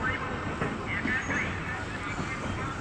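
A local train rumbles past nearby at Budge Budge station, bound for Sealdah, a steady rolling drone with clattering underneath and a murmur of people in the background.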